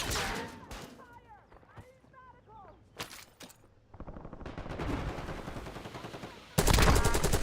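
Video game gunfire in a multiplayer shooter, with sharp shots and rapid automatic bursts that grow denser toward the end, mixed with in-game radio voice callouts and scattered effects.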